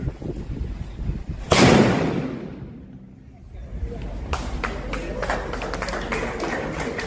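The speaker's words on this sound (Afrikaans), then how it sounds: "As hy Griet sy eerste skoot by Paardekraal Monument." A 4-pounder cannon fires its first shot at an outdoor ceremony at a monument, a single sharp loud blast followed by a rolling, fading roar, then crowd noise and scattered clatter resume.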